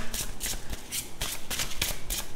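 Tarot cards are shuffled and pulled in a card reading, giving a close, crisp run of riffling and flicking bursts in a quick, uneven rhythm with no voices.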